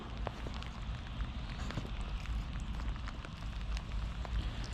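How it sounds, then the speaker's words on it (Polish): Freezing rain falls steadily on a cold day during urban street fishing, a continuous dense patter with a low rumble underneath, fairly loud and close, with no voices. "Przez ten marznący deszcz."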